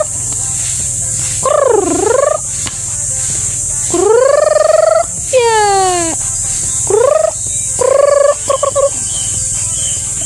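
A brooding hen in a rural backyard gives a run of drawn-out, wavering calls separated by short pauses, fairly close and loud over a steady low hum, with a sharper chirping burst midway.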